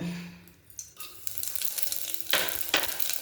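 Whole spices, cloves, cardamom, a small cinnamon stick and shahi jeera, crackle and sizzle in hot oil for mutton keema curry, a steady close hiss with a few sharper pops, no voices.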